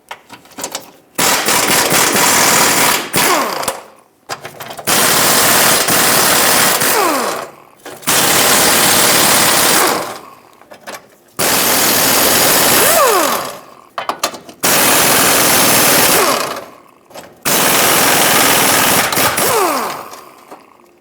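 An impact wrench spins out 14mm bolts from the control arm bracket on a 2018-2023 Subaru Crosstrek, firing in six loud, rattling bursts of about two to three seconds each, separated by short pauses.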